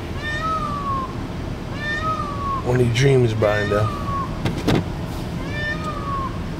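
Peacocks in Hawaii giving cat-like meowing calls, several rising wails repeated at intervals, with a person talking and a voice briefly imitating the cry in between.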